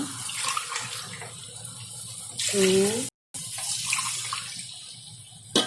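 Water runs steadily from a tap into a cooking pot for rice, a continuous splashing stream with a brief gap. A voice speaks over it.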